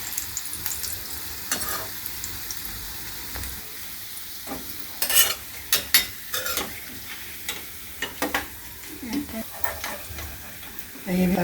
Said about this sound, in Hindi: अब इसको भी हम तल के निकाल लेंगे।